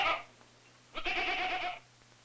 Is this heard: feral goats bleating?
yes